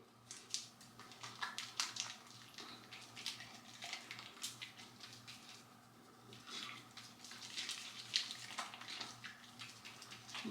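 Water splashing and rinsing face wash off a face, running continuously in a bathroom morning skincare routine, with a steady background hum, irregular splashes throughout, and no talking.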